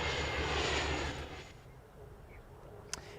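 Fixed-wing airplane passing overhead near Rocky Mountain Regional Airport, a loud broadband engine roar that fades after a second and a half, leaving a quieter hum and one brief sharp click near the end.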